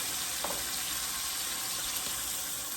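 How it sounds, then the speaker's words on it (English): Chicken pieces cook in a pan with a little olive oil for chicken Alfredo, making a soft, even sizzling hiss that stays steady throughout with no talking. "Chicken's cooking away."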